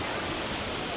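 Steady, dense roar of a waterfall at a picnic spot with a suspension bridge near Pokhara, Nepal, loud and unbroken throughout.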